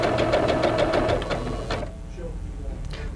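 A Singer 7466 computerized sewing machine runs a zigzag stitch, a fast rhythmic mechanical chatter that is loud and close for under two seconds and then stops, leaving a quiet hum.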